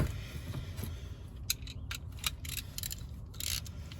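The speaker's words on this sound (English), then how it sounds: "All right, we gotta get those bolts out." A deep socket wrench works on subframe bolts, giving faint, quick ratcheting clicks in short irregular bursts over a low background hum.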